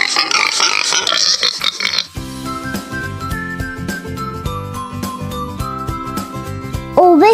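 A pig grunts and squeals loudly for about two seconds, then a light, tinkling melody takes over, ending with a brief whistling slide.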